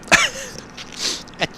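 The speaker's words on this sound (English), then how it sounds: "I'm gonna sneeze." A person sneezes in two sharp bursts, a loud one at the start and another near the end, with a quieter breathy sound between them.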